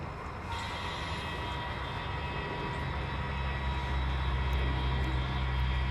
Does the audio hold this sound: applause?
no